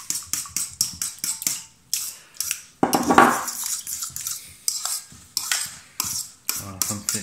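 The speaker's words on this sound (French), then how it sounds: "je vais ajouter ma crème fraîche liquide avec la gélatine" Utensil stirring a savory cheesecake mixture of liquid cream and gelatin in a bowl, in quick rhythmic scraping strokes with a brief pour-like swish midway, close and clear.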